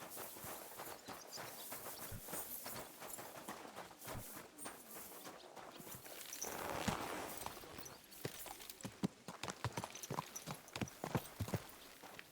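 Horse hooves in Kingdom Come: Deliverance II, a steady clip-clop of walking hooves that continues throughout, growing sharper and more distinct toward the end.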